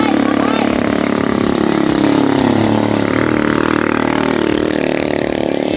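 A motorcycle engine runs steadily at idle beside a river outing, a continuous low mechanical drone that carries through the whole moment, with people talking over it.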